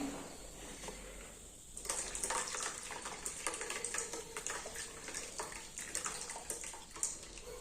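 Hot homemade hair-care liquid is poured off and strained through a sieve or cloth, giving a steady, soft splashing trickle that runs for several seconds with no talking.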